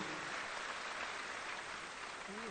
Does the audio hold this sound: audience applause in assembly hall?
yes